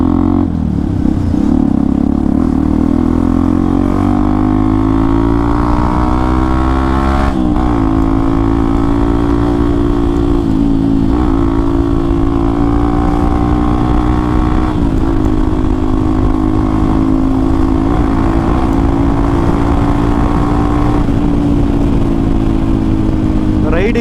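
Motorcycle fitted with an Akrapovic exhaust, ridden on a morning commute to the office, holds a loud, steady engine drone throughout with several shifts and revving swells, heard close by.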